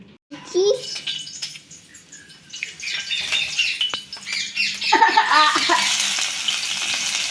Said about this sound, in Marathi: तर कांदा तेलामध्ये आता थोडासा फ्राय करून घेते